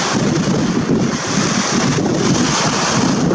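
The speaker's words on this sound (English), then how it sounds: "Fortunately, it's very windy right now, so I don't even know if you can hear me well." Strong wind blows across a beach by the water, buffeting the microphone with a loud, continuous roar that could also carry surf. No voices break through it.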